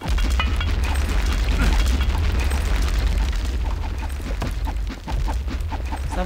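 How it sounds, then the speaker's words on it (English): A grenade blast in Garry's Mod, a loud low rumbling boom that lingers and fades into scattered debris-like crackles, with no talk over it. "They have a grenade."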